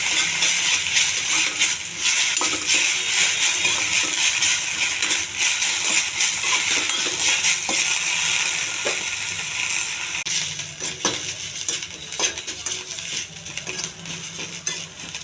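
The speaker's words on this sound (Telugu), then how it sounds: "కడిగి పెట్టుకున్న కొత్తిమీర, పచ్చిమిర్చి, కొద్దిగా చింతపండు ఇవన్నీ వేసి దోరగా ఎగనివ్వాలి" Coriander, green chillies and a little tamarind frying in a pan for chutney tempering, heard as a steady close sizzle with occasional scrapes and clinks of a stirring utensil, fading slightly toward the end.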